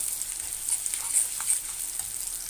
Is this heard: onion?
yes